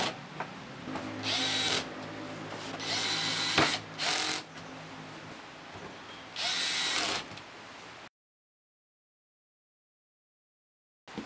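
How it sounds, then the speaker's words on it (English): A power drill drives flat-headed screws into a plastic Keter storage shed in several loud whirring bursts with short pauses between them, then silence toward the end. "And then screw that down again using the flat-headed screws."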